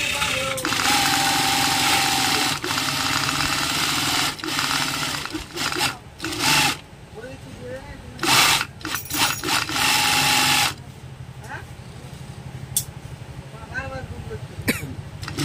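Sewing machine stitching leather hand gloves, running loud and steady at first, then in short stop-start bursts, with a person coughing and talking nearby.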